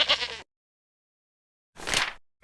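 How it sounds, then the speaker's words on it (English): A mountain goat calls with two short, harsh bleats separated by a second of silence, close and fairly loud. "Mountain goat."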